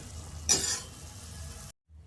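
Masala paste drops into a hot pan with moringa leaves, giving a brief loud burst of sizzling that fades into a steady low frying hiss before cutting out.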